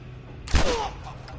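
A single gunshot from The Last of Us Remastered on PS4 cracks loudly and decays over about half a second, with a faint hum beneath and no talk.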